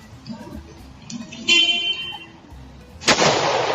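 A car horn blares loudly in a sustained burst near the end, after a shorter honk midway, over background street noise and a few voices.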